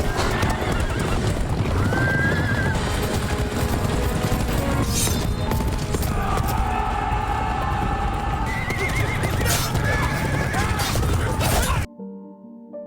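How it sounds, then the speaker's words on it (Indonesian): Many horses from a herd belonging to a nomadic tribe gallop in a continuous loud thunder of hooves with repeated neighs, set under a dense battle soundtrack in a historical action film, ending abruptly. "lalu melepaskan semua kuda milik suku Hun"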